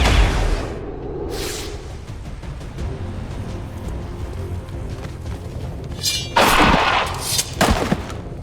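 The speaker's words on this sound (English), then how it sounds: "Incoming fire!" Gunfire in the XCOM 2: War of the Chosen strategy game: a dense, ongoing rattle of shots and thuds, with sharp louder bursts near the end, under low background rumble.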